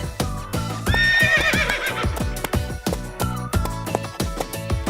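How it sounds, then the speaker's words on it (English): Icelandic horses give a loud, wavering whinny near the start, with rhythmic hoof clops and snorty sounds continuing throughout, close and clear with no talk. "Next I have 3 Icelandic horses."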